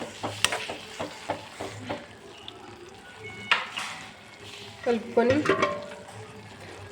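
Chili powder is stirred into fried tomatoes in a pan, giving a gentle steady sizzle with a series of spoon scrapes and taps, close by, with a brief busier clatter near the end.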